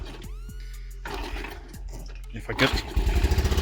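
A 1975 Honda Z50 Monkey mini bike is kicked over and fires up, its small engine catching into a loud, uneven idle with very little choke and no throttle, close by, with someone speaking briefly at the start.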